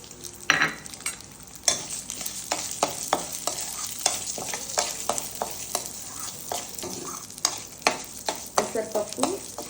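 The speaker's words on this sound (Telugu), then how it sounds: "అదే నెయ్యిలో పెసరపప్పు ఫ్రై చేసుకోవాలండి" Moong dal frying in ghee for sweet pongal, a busy, crackling sizzle with frequent scraping stirs and clicks of a spoon against the pan, close and fairly loud, no voices.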